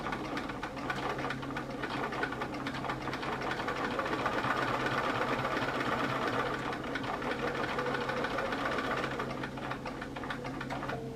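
A sewing machine stitches up a purse pocket from its raw edges, running steadily and close for the whole stretch with an even, continuous mechanical whir and no talking.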